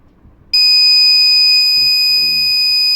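A buzzer on a soldered 5-volt circuit board starts abruptly after half a second and then sounds as one loud, continuous shrill tone, with brief faint speech beneath it.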